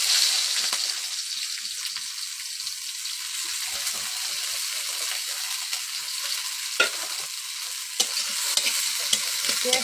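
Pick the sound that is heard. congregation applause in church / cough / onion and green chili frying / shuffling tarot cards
onion and green chili frying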